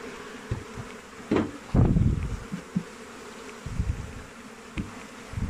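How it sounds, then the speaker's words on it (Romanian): Honey bees buzzing around an open beehive in New Zealand, a steady swarm drone close by with occasional louder thumps and knocks from handling the hive frames. "Deci albina care rămâne cu puiet, o să mutăm."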